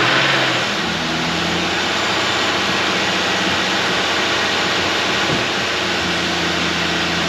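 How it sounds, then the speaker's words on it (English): A 2015 Nissan Pathfinder engine runs at a steady, loud idle after starting, a continuous broadband hum and whir with no change in pitch and no talk. "Beginning engine starting sequence now."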